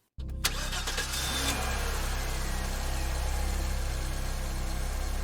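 A car engine runs steadily and loudly throughout, a sustained mid-range drone that builds slightly after a sharp start, alone with no voices.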